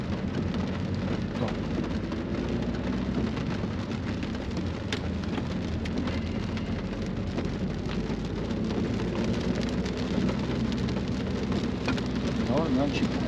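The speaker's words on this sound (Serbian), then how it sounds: "Kiša pada, niš se ne vidi i svi su ludi." Heavy rain pounding on a car during a driving lesson in traffic, a dense steady roar of drops hitting the roof and windshield, with low engine rumble underneath throughout.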